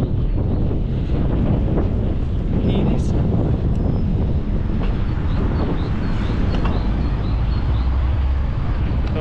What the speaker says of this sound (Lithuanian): Įdomu, girdėsis vėjas ar nesigirdės.